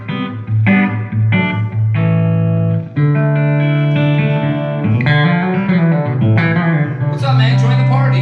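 Clean, undistorted electric guitar chords strummed and let ring through an amplifier, with a few bent notes and single-note fills toward the end.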